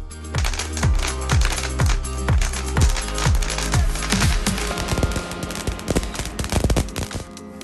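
Consumer fireworks set off at home, heard as a rapid string of sharp crackling bangs, one burst after another, loud and close and alone without talk.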